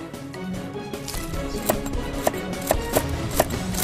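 Chinese toon sprouts are chopped on a board with a knife, giving a series of crisp, fairly close knocks that grow more distinct toward the end.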